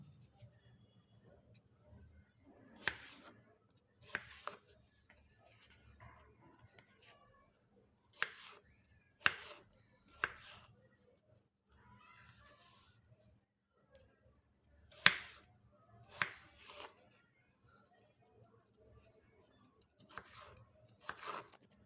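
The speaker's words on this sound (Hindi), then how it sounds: "आलू को थोड़े बड़े टुकड़ों में काटना है।" A knife chops potatoes into large pieces on a cutting board. The sharp, quiet chops come in small clusters spread across a calm stretch with no speech.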